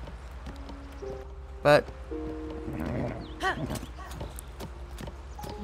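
Horse hooves clip-clopping in the video game Zelda: Tears of the Kingdom, a quick rhythmic patter under game music and sound effects, with a person talking over it.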